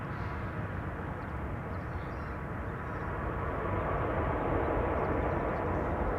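A Boeing 777 airliner lands at Amsterdam Schiphol on a sunny day, a steady broad engine roar that swells slightly toward the end, distant and continuous with no voices.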